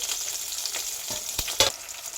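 Garlic cloves and chili frying in oil in a pan, a steady close sizzle with a few sharp stirring clinks and crackles.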